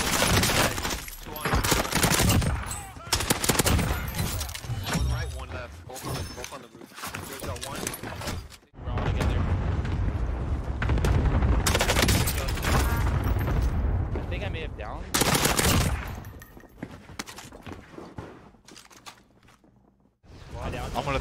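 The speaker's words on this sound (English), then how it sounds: "I'm taking fire." Rapid bursts of video game gunfire in a competitive tournament match crackle almost nonstop and loud, with dense volleys broken by brief lulls, while voices talk over the action.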